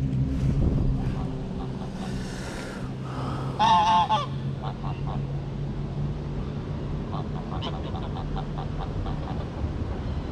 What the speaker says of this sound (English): The goose is coming out.